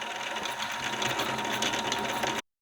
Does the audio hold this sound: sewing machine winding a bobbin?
yes